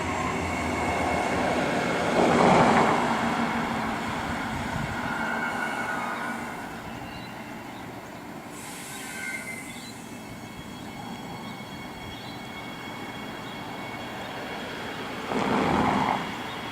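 A down train on the Seaford line in Adelaide rumbles past at moderate distance, a steady rolling rail drone with faint wheel squeals and occasional louder swells.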